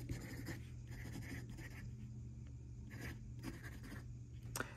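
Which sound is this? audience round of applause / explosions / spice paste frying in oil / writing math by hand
writing math by hand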